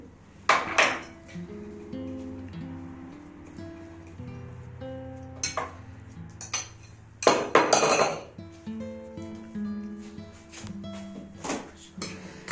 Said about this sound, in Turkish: Kaşarımızı da ilave ettikten sonra karıştırıyoruz.